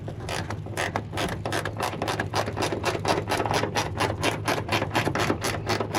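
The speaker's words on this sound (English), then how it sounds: "I'm gonna use the wrench on this one instead" Ratchet wrench clicking steadily as it turns a fastener on a 1999 Ford Ranger pickup during back glass work, a fast regular run of sharp metallic pawl clicks, close and fairly loud throughout.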